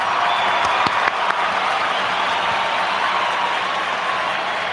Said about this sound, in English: I'm looking for the applause.